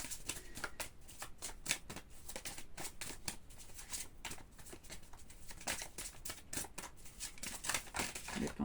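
Tarot cards shuffled steadily during a card reading, a dense continuous flutter of riffles and slaps for several seconds, close and moderately loud, with faint background talk.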